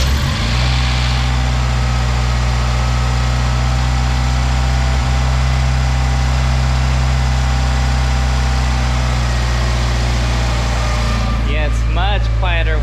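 A 1.6-liter Mazda Miata with a turbo manifold fitted fires up and settles into a steady, loud idle with a deep, even rumble throughout, and a voice speaks briefly near the end.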